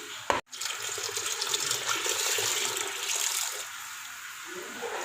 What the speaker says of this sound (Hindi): अब हम इसमें पानी ऐड कर देते हैं।